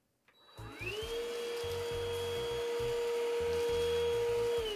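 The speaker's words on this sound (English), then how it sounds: "Why is my vacuum cleaner making maraca sound?" An office vacuum cleaner switches on after a brief quiet moment, its motor whining up to a steady high hum, with intermittent low rattling thumps underneath.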